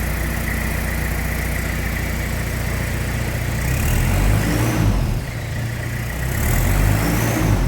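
A Toyota Hilux engine fitted with a Garrett turbo idles steadily, a loud low rumble that rises and dips slightly in places, with no talking.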